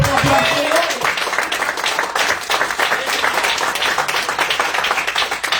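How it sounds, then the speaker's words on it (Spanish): A church congregation applauds during an evangelist's Spanish-language sermon, loud sustained clapping from many people, with a voice briefly heard at the start. "Denle un aplauso al Señor."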